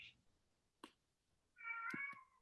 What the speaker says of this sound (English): Sorry if you hear my cat.